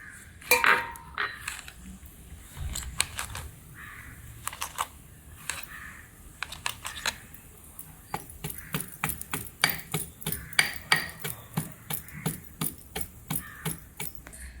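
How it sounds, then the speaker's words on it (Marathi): Fennel seeds and cumin being pounded while making mixed vegetable pickle, a close series of sharp knocks that starts sparse and then settles into a quick, steady rhythm. "बडीशेप आणि जिरा पण कुटून घेतोय"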